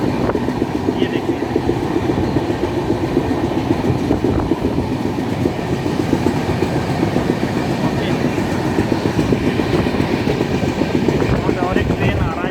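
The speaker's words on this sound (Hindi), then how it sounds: "और एक ट्रेन आ रहा है, देखिए नज़ारा देखिए, वहाँ पर एक ट्रेन आ रहा है।" Train rolling along rails near Chilika lake, heard from aboard as a steady, loud rumble with continuous rattling throughout.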